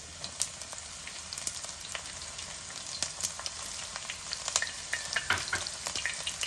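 Chopped garlic and green chilli pieces fry in hot oil in a pan as the tempering for a spinach and gongura curry, giving a steady, close crackling sizzle with sharp pops scattered throughout and no voices.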